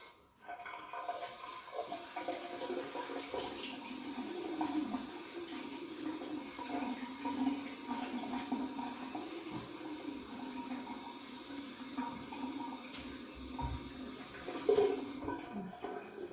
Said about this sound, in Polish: Twarz zwilżona, a w zasadzie ochlepana wodą